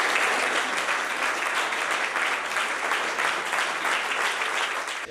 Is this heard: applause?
yes